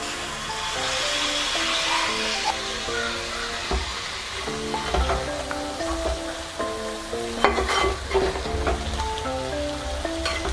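Chicken chukka cooking in oil in a covered pan gives a steady, close sizzle and crackle, loud and continuous for the whole stretch with small pops and occasional stirring scrapes, and no one talking.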